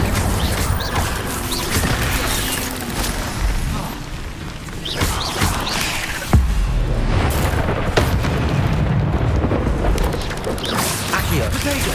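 Incendio fire spell blasts in Hogwarts Legacy, a dense, busy mix of fiery bursts and crashing impacts with a sharp hit partway through, loud and continuous amid game effects.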